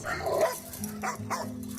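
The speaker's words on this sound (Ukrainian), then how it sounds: "На задньому дворі я тримаю клітку, яка видає звуки гавкання кожних 15 хвилин." A device in a caged enclosure in a backyard plays dog barking sounds, several fairly loud barks in an uneven rhythm, heard alone without talk.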